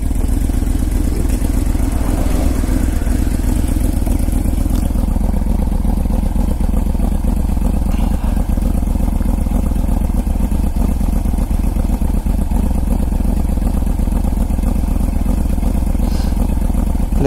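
A Yamaha VMAX motorcycle with a badly tuned carburetor runs on a high mountain road, its engine droning loud and steady with a rough, sputtering edge throughout.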